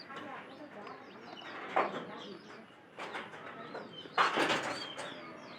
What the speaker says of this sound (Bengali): এটা পায়রা বাবু, আপনারা এরা কিন্তু শব্দ করতেছে একটা